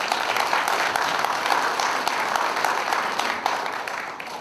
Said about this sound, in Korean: 참가하신 분들 힘찬 박수 함성으로 시작하시도록 하겠습니다